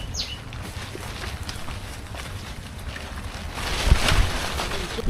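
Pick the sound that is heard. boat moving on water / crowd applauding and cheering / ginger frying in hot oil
boat moving on water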